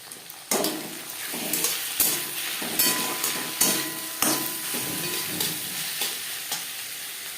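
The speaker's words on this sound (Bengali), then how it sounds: "পেঁয়াজ ভেজে নেওয়ার পর দিয়ে দেবো এক চামচ আদা ও কাঁচা লঙ্কার পেস্ট" Sliced onions fry in a pan with ginger and green chili paste and crushed garlic, for a Bengali bhetki fish-bone dish. A steady sizzle runs under repeated close scrapes and knocks of a spoon against the pan, with no talk.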